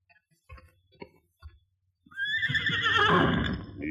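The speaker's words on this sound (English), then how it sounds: "the great horse Silver, ever on the alert, gave a warning of approaching danger" A horse named Silver neighs in warning as a radio drama sound effect: a few faint hoof or knock sounds, then a loud, prolonged whinny rising and trembling for its final seconds.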